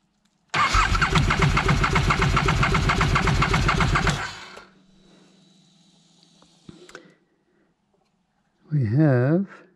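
An Aprilia RSV1000 motorcycle engine cranking over at full throttle during a compression test: a loud, rapid, even chugging from the starter for about four seconds. Then it stops, with a faint hum and a clunk after, and a voice speaks briefly.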